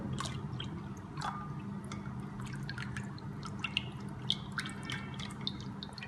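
A little water goes into a whisked sugar mixture for dahi boondi chaat, making faint scattered drips, small splashes and light squishy liquid sounds over a quiet, steady background hum.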